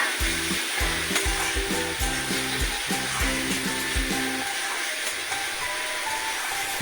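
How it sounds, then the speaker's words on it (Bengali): Onion paste frying in oil for a spicy doi katla fish curry, a loud continuous sizzle with rhythmic scraping strokes of a spatula for about four seconds, then the sizzle alone. "পেঁয়াজ বাটা ভাজা হচ্ছে।"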